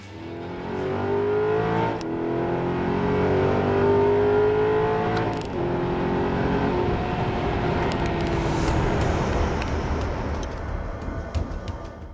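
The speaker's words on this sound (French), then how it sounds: "Et c'est passion maintenant avec la Maserati Gran Turismo Sport." A Maserati GranTurismo Sport engine revs and drives, a loud, smooth rising engine note that shifts pitch with gear changes and holds a sustained roar throughout, with nobody talking.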